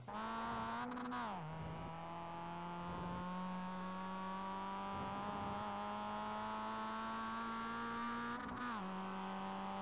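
A Mazda MX-5 race car in iRacing at Lime Rock Park gives a steady, loud engine drone under acceleration. Its pitch dips briefly near the start and again near the end, as if the driver shifts or lifts.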